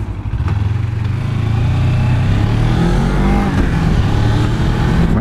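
A vehicle engine drones loudly and steadily while driving on a hot day, with a low rumble that shifts in pitch as the driver changes down a gear.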